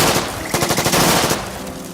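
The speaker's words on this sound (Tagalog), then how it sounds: "Mabilis na umalingaw-ngaw ang maraming tunog ng baril sa paligid." A machine gun fires a rapid burst of loud, evenly spaced shots for about a second, framed by dense booming noise that tails off afterward.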